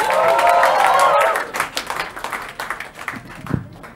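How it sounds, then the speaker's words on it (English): Comedy club audience at an Indian stand-up show bursts into loud applause and cheering, dense clapping that thins out into scattered claps, with a voice briefly heard over it. "start the clapping, start the cheering"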